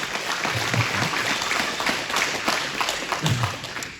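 Crowd applause at an outdoor political rally for an Idaho Senate candidate, a steady mass of clapping and some cheering voices sustained across the clip at moderate loudness.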